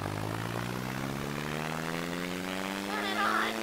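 Propeller plane engines spin up in the Simple Planes flight game, a steady droning hum that rises in pitch as they rev, close and continuous across the whole clip.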